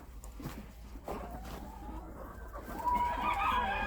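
A mixed winter flock of Australorp, Cochin and bantam chickens clucks and calls near at hand, scattered single clucks building into louder, overlapping squawks toward the end.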